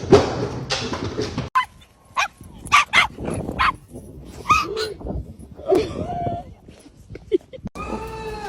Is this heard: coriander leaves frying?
no